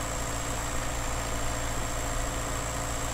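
Tractor engine idling in Farming Simulator: a steady, even mechanical drone with a constant low throb and a thin high whine, unchanging throughout with no talk.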